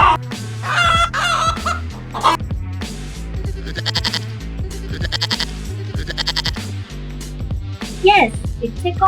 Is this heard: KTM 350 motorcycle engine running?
no